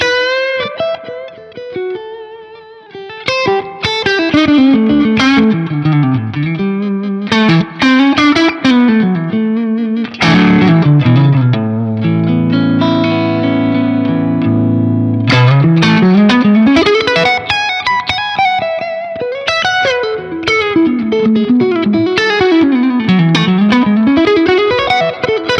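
Electric guitar lead tone through a Laney Lionheart Loudpedal at low-to-mid gain, playing a loud, continuous run of fluid legato phrases and sustained bends with light effects and reverb, with no talking.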